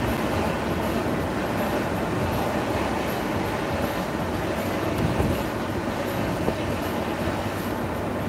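A train rumbles past nearby, a continuous heavy rolling roar with faint wheel clatter and no voices.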